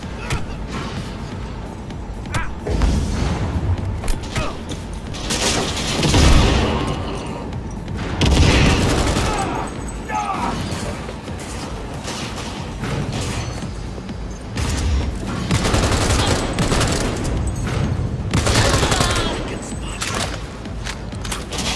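Rapid bursts of gunfire and thumping impacts from a firefight in the video game Cyberpunk 2077 fill the clip, loud and dense with heavy recurring booms, while someone talks in Hindi underneath.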